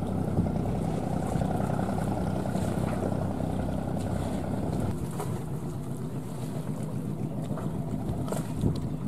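Ben Tre trawler motoring near Phu Quy island, a steady loud engine drone with deep low rumble, mixed with wind buffeting and water noise, continuous without pause.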